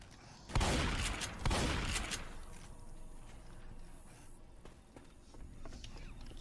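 Shotgun firing in the Left 4 Dead 2 video game: two booming blasts about a second apart, each with a decaying tail, followed by low game background noise, heard at modest volume.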